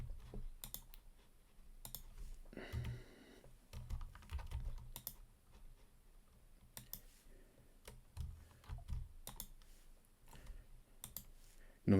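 Keys clicking on a computer keyboard as a shortcut is typed for an ArchiCAD task, with scattered taps and short bursts of keystrokes running throughout, close and moderately loud, with no voice over them.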